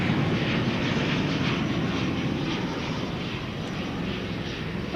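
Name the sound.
American Airlines plane in retro livery at DFW Airport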